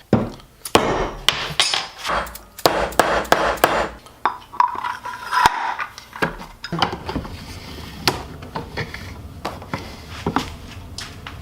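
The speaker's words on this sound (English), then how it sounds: "you press them on and then tap them with a hammer to lock them in place" A hammer taps metal nuts onto an axle in quick bursts of sharp clinks, followed by quieter scraping and rattling handling sounds, close by.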